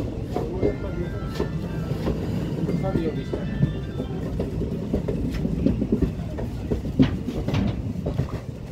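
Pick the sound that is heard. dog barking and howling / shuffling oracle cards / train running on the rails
train running on the rails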